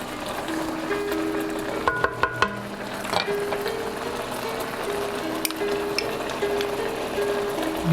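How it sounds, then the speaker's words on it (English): Meat frying in a hot pan for bulgogi, a steady close sizzle with a few sharp clatters of utensils and faint background music throughout. "Keep cooking until the meat is brown and cooked thoroughly."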